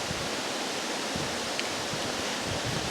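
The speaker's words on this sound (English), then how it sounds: "Sorry about the wind, I'm in between thunderstorms actually." Outdoor wind buffeting a microphone between thunderstorms in a garden, a steady broadband rush with low, gusty rumbles and no speech.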